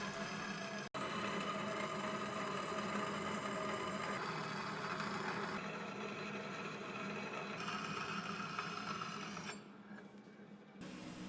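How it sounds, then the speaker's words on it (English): A bandsaw cuts a shape out of steel plate with a continuous loud grinding, rattling whir that carries on steadily, no voices present. "And then use the bandsaw to cut the shape out."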